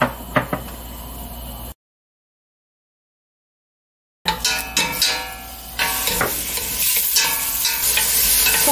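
Beef fries in sesame oil in a pot for soup stock, with a bright sizzle and the clatter of stirring. The cooking noise cuts out into a silent gap midway, then returns louder and denser.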